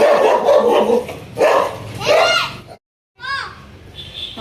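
A dog barks a few times nearby in short yips, mixed with children's voices and chatter, then a brief silence before more voices.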